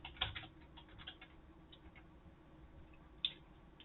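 Text is typed on a computer keyboard, a handful of faint close key clicks with a sharper tap near the start and another near the end, in an otherwise quiet room.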